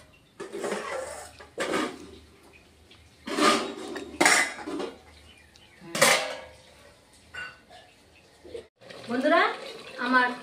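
A pan of Bengali mustard egg curry covered with a lid, heard as several sharp metallic clanks and scrapes of pots and utensils spaced across the stretch, with a voice speaking in between.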